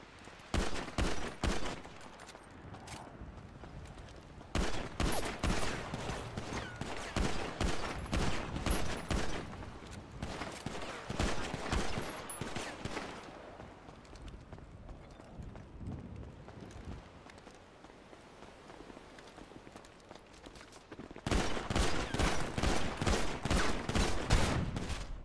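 Gunfire in a 1v1 arena shooter match in Prodigy 2.0: loud, dense automatic bursts at the start, middle and end, separated by quieter stretches with lighter shots.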